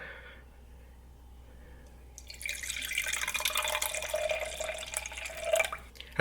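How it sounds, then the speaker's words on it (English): Carrot and lime juice is poured from a shaker into a cup, a quiet start giving way to a steady close splashing pour for several seconds, with no talking. "Now I'm gonna go ahead and pour it right in the cup."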